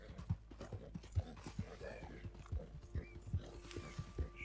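In Red Dead Redemption 2, a large Andalusian mare walks with a steady run of clip-clopping hooves, each step distinct, over a faint game background with a soft tonal hum.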